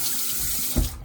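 Tap water runs steadily into a sink for a rinse, a close, continuous broadband rush that swells briefly near the end before cutting off.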